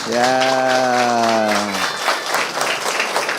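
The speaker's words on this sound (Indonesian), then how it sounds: "Tepuk tangan untuk Pak Guru dong" Applause from a classroom audience for a teacher at a lesson led by an education minister, a dense patter of clapping that runs throughout, with a sustained voice-like tone over it for the first half.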